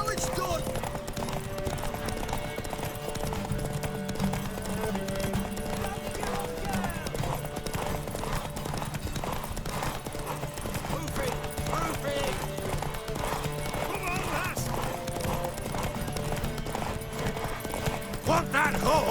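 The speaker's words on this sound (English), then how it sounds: "Want that horse, don't ya?" Horse hooves clip-clopping in The Witcher 3: Wild Hunt video game, a steady rhythmic trot running throughout under game music, with character dialogue spoken over it.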